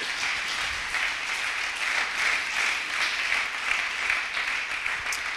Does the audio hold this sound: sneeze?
no